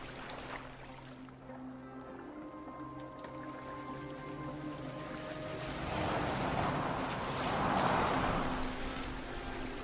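A boat sailing across open water in Assassin's Creed Valhalla, with a steady wash of waves and wind that swells louder toward the end over a low droning background, no speech.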